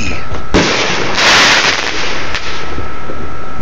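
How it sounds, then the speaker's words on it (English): A firework mortar bursts with a loud, sharp boom at an outdoor Fourth of July display, then a crackling, hissing tail fades out, heard up close. "Man, that percussion is... I mean, seriously, man, that's a fucking mortar."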